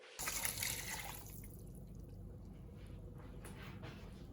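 Dissolved stock cube liquid poured into a soup pot while cooking minestrone, a steady watery splash and trickle that starts loudly and settles into a continuous pour.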